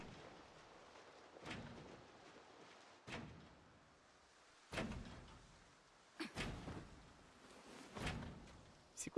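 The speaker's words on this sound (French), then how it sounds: "c'est le cochon qui est en train de défoncer la porte." A pig batters a door in the zombie survival game Project Zomboid, giving five or six heavy, irregularly spaced thuds and bangs over a low, steady rain-like hiss.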